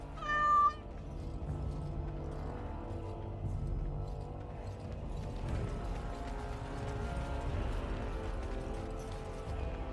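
A cat in the video game Dragon Age gives a single short meow at the start, then fades into a continuous layered game ambience and musical drone with no speech.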